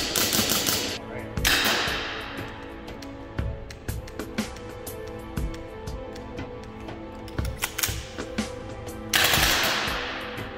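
A Milsig M79A2 paintball-style blaster set to semi-auto fires a long series of sharp, close cracks in an irregular rhythm, some shots landing as quick doubles, with occasional louder rattling bursts.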